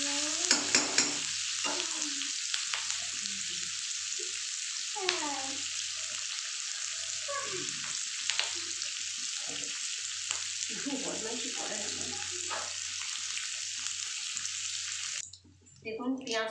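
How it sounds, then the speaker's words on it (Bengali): Chopped onions frying in a small amount of oil for chicken curry, giving a steady sizzle throughout with occasional stirring scrapes, ending in a brief pause and a clatter. "দেখুন পেঁয়াজটা একটু ভাজা হয়েছে"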